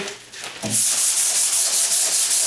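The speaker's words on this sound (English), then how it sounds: "could I hit it with the paddle sander? Yeah, I could hit it with the paddle sander" Paddle sander working over a wooden door, a loud steady grinding rasp that starts after a brief softer rub and runs continuously close by, with no talking.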